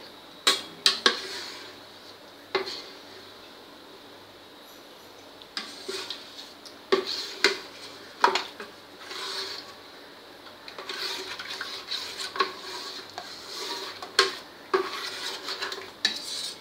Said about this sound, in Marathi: हे पूर्ण मिक्स करून फोडून घ्यायचे